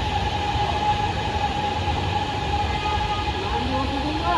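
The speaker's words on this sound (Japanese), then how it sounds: "電車ですよ。" A six-car metro train on Hanoi's urban railway rolls slowly into a station, a steady low rumble with a faint tonal whine from the cars, close and continuous.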